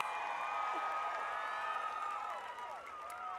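Audience applause with scattered cheers and whoops fills a Detroit hall at the First Lady's leadership and mentoring event, a dense, steady wash of clapping that eases slightly toward the end.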